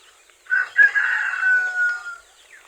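A rooster crows in one long drawn-out call among free-ranging backyard chickens, close and clear, with faint clucking around it and no talk.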